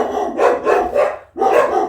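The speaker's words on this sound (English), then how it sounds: "They're barking at imaginary things, I guess." Dogs bark close by indoors, a quick run of three loud barks, a brief gap, then another bark, with no other sound.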